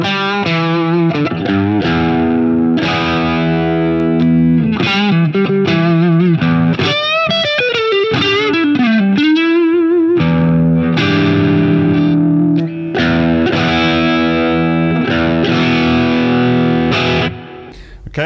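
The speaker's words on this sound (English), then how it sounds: "I'm on the Strat bridge pickup." An electric Stratocaster on its bridge pickup plays through a Bugera G20 Infinium Class A tube amp head with a gain setting around 9. Loud, driven riffs and lead lines run continuously with bends and sustained notes, and the tone stays gritty and distorted throughout.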